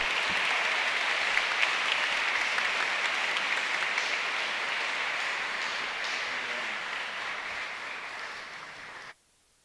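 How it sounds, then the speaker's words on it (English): Sustained audience applause at an energy transition and electrification summit, dense and steady for about nine seconds before cutting off abruptly. "I'll just invite the audience to give you a further round of appreciation and applause"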